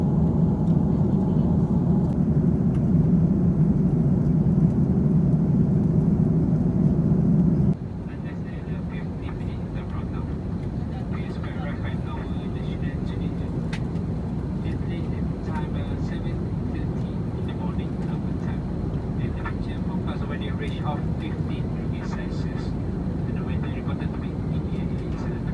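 Steady low cabin roar of a Malaysia Airlines A330 in flight on descent toward Adelaide, a broad even drone that drops slightly in level partway through, with faint talk beneath it.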